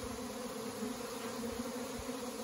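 A small clump of swarming bees hangs on the end of a branch in autumn, giving off a soft, continuous buzzing hum that stays faint and even throughout.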